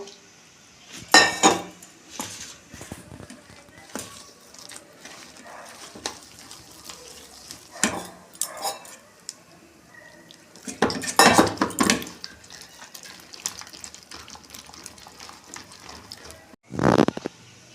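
Gram flour and rice flour batter being mixed in a bowl for cauliflower pakoras: scattered clinks and scrapes of a utensil against the bowl, quiet between bursts, with a louder clatter near the end.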